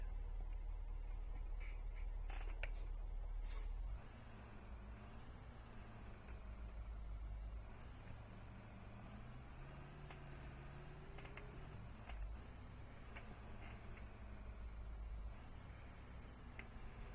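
A Blue Bird 3800 bus drives in the Rigs of Rods video game, its engine a steady, moderately loud mid-pitched drone that shifts tone slightly as it runs, with a few faint clicks over it.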